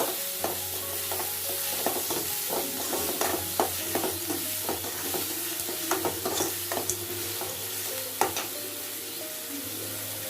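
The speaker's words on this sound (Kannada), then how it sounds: "ಈಗ ಕಟ್ ಮಾಡ್ಕೊಂಡಿದ್ದಂಥ ಈರುಳ್ಳಿ ಸೇರಿಸ್ತಾ ಇದ್ದೀನಿ. ಇದನ್ನು ಸ್ವಲ್ಪ ಫ್ರೈ ಮಾಡ್ಕೊಳ್ಳೋದ." Chopped onions frying with radish for a dry palya, a continuous close sizzle punctuated by frequent sharp clicks and scrapes from a utensil stirring against the pan, with a low steady hum underneath.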